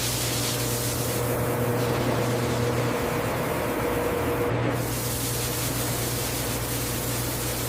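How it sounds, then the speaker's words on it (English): Continuous hiss of sanitizer water spraying from nozzles onto bananas in a freeze-dried banana factory, over a low mechanical hum, steady and close with no talking. "Spray hits every banana surface."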